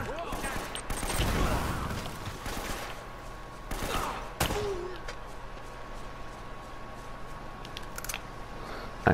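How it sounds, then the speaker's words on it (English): Gunfire in Uncharted: Drake's Fortune, several loud shots and bursts crackling at intervals, mostly in the first half, over game ambience while someone talks. "Who else is shooting?"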